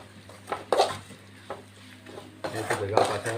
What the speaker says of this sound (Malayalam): മസാല പച്ചമണം മാറുന്നവരെ ഒന്ന് നമുക്കൊന്ന് ഫ്രൈ ആക്കാം.